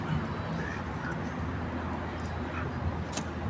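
Five-month-old ducks quack softly, a few brief calls scattered over a low, steady background murmur in their pen, with no one speaking.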